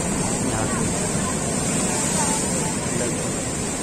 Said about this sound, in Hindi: दस फुट की लहरें मनमोहित कर लेती है